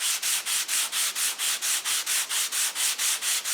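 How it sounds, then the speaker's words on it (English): Steady back-and-forth scraping of sandpaper on wood, about fourteen even strokes in a quick, regular rhythm, close and fairly loud with no voices. "that does help speed up the sanding process"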